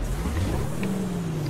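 A 2000hp Peterbilt truck in American Truck Simulator roars as it accelerates on the highway, a loud, close engine drone with a rising pitch that fills the short moment without pause.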